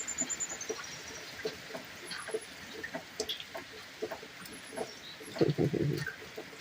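Chickens cluck and chatter nearby in short, scattered calls on a rainy homestead, with a louder flurry of clucking near the end over a soft outdoor background.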